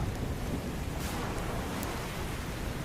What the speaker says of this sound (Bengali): তারপরই শুরু হলো তুমুল ঝড় বৃষ্টি